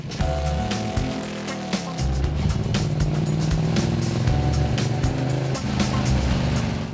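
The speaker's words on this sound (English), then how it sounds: "this is one of the loudest motorcycles I've ever ridden." A 2015 Ducati 1199 Panigale motorcycle engine roars loudly and steadily, with rising and falling revs throughout, close to the microphone and not under any talk.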